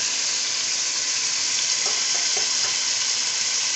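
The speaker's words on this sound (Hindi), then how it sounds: "अब मैं इसमें सारा मसाला डाल रही हूँ" Spice masala fries in a pot of oil for aloo gosht pulao, giving a dense, steady, close hiss of sizzling with a few faint stirring clicks partway through.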